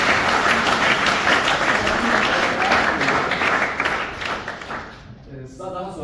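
A concert audience at a student music performance breaks into dense, sustained applause that fills the space loudly, then thins and tapers off near the end as a voice begins to speak.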